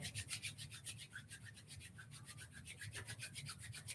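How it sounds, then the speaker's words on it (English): Palms rubbing gently together in a quiet room, a soft rhythmic swishing of skin on skin repeated in quick strokes, close and faint. "Very gently rubbing our palms together,"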